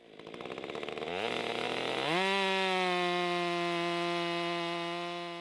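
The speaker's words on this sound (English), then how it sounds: "So now you're seeing the Stihl 500i, and I absolutely love this chainsaw" A Stihl 500i chainsaw engine sputters at idle, then revs up and holds a loud, steady high-pitched whine close by.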